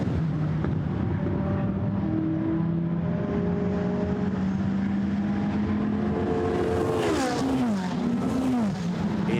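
GT race cars at Paul Ricard scream past one after another, engines droning loud and steady, then downshifting and braking hard with falling, then rising revs near the end.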